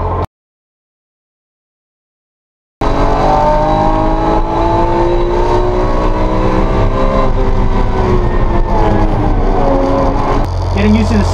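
A BMW E46 M3 lapping the Thunderhill West race track, its engine roaring loud and steady under acceleration after a short silent gap at the start.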